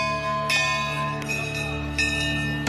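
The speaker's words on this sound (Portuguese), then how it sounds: "Eles tocam o sino como quem avisa a chegada." A temple bell at Gangotri, rung by arriving pilgrims, clangs three times in about two and a half seconds, each bright metallic strike ringing on with a sustained shimmering tone.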